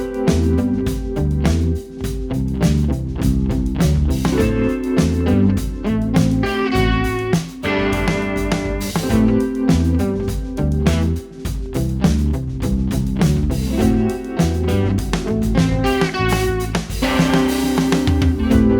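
Song snippet with drums, a Tweed Blues guitar and an eighties EZ Bass line from Toontrack: a dense full-band groove of steady punchy beats, chugging bass and bright guitar chords, loud and continuous throughout.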